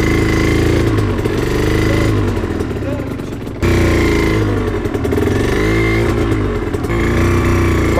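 A motorcycle engine revs loudly up close in two rising-and-falling surges, its rumble dipping briefly in between before climbing again.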